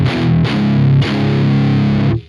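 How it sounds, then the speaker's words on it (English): Distorted bass played through a DS-1-style bass distortion pedal emulation on an Antelope Audio Zenith 2 interface: loud, gritty sustained notes in three strikes that ring out, then cut off abruptly, with no talking. "bass distortion."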